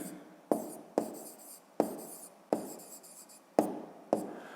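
A pen writes on paper while working a fifth-grade geometry exercise, giving a series of short scratchy strokes, each starting with a sharp tap and trailing off, close and quiet, with brief pauses between strokes and no talking.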